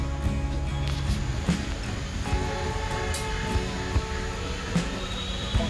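The Ooty toy train rumbles steadily along the rails near Coonoor, crossing a level crossing, with rhythmic clacks of wheels passing over track joints and a faint metallic whine.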